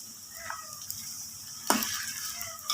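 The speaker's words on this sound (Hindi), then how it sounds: "चिकन की अच्छे से भुनाई करते हैं 3 से 4 मिनट" Chicken pieces for a karahi fry in a pan with a soft, quiet sizzle, broken by a sudden louder hiss and a few light clinks of stirring.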